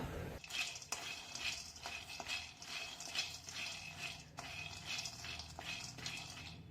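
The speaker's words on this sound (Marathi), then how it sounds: "आपण हे शेंगदाणे याच्यामध्ये वतून भाजून घेऊया" Dry rattling and scraping of peanuts being stirred around a hot pan, a steady gritty shuffle with repeated clinks, continuous and close.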